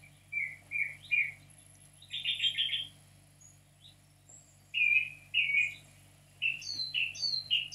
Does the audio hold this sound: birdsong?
yes